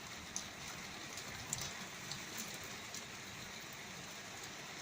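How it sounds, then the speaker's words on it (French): Heavy rain pours steadily during a violent thunderstorm in Les Arcs-sur-Argens, Var, a dense continuous hiss of drops with a few sharper splashes, no thunder or voices standing out. "on voit plus rien tellement il pleut fort"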